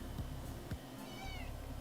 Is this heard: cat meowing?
yes